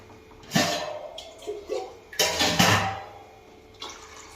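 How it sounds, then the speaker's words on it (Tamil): Water poured from a vessel into a pan of cooking vegetables and chickpeas during home Tamil vegetarian cooking, several short splashing pours with pauses between them, near and fairly quiet. "தண்ணி ஊற்றிக்கலாம் தேவையான அளவு."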